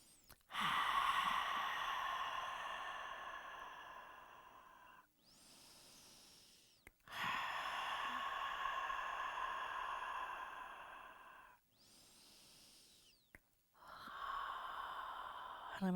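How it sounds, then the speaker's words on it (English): Slow, deep breathing during an energy medicine exercise: long airy inhales and exhales alternate in a calm rhythm, each breath stretching several seconds, close and soft with brief pauses between. "And we're just going to breathe."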